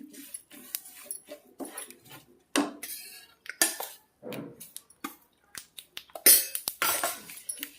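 A ladle scoops two measures of sesame seeds into sugar syrup in a pot, making sharp, close metallic clinks and scrapes in an irregular rhythm with short pauses between them.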